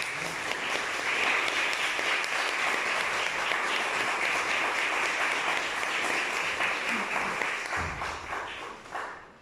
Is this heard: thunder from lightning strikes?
no